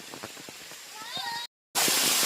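Rain pours down on people sheltering under an umbrella, a steady close hiss with brief voices, then a short dropout before the wash of rain returns louder.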